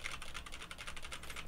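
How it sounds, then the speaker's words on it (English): Rapid typing on a loud mechanical keyboard, with dense, continuous clacking keystrokes heard close up and alone. "So right now we are clacking on the keyboard, and yeah, this is how much keyboard it sounds."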